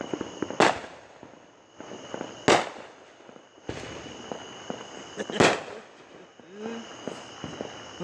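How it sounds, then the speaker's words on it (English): A backyard fireworks show in Memphis, Tennessee, in 2020: four sharp, loud bangs at uneven intervals over scattered crackling and a steady background hum, with a brief voice near the end. "Getting our own fireworks show here in Memphis, Tennessee."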